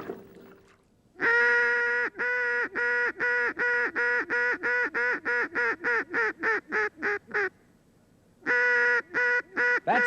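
A champion duck caller sounds a call imitating ducks and geese: a long run of loud, nasal honks and quacks in quickening rhythm, a brief pause, then a few more, close and clear with no talk.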